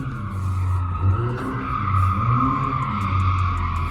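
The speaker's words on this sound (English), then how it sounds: "A blue car decided to do some late night donuts at an intersection." A blue car spins donuts at a late-night residential intersection, its tires squealing and skidding continuously with a steady engine drone underneath, loud and close throughout.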